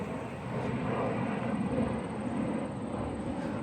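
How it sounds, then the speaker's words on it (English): A big military plane flies overhead, a steady broad engine roar filling the whole stretch at moderate distance with no talking. "oh, that's a big military plane."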